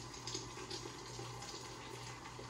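A wet pudding cloth, just lifted from hot water, drains with a soft, steady trickle of water, faint and continuous throughout.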